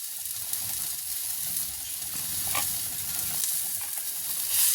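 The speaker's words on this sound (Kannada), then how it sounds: "ಒಂದೇ ಸ್ಪೂನ್ ಎಣ್ಣೆ ಹಾಕಿ ಹುರ್ಕೊಂಡ್ಬಿಡೋಣ" Curry leaves and coriander frying in a spoonful of oil with tomato and onion, for a festive holi saaru; a steady, soft sizzle runs throughout with faint stirring scrapes, fairly quiet and alone.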